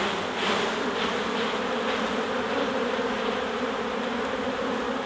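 Loud, dense buzzing of many honey bees shaken off a drone brood frame close by, a continuous droning hum with no voices.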